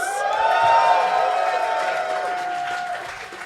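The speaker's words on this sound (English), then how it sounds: "give them a lovely round of applause as you just did" A live podcast audience cheers and claps at a first-birthday special show, with a loud sustained crowd roar and a drawn-out whoop that slowly tapers over a few seconds.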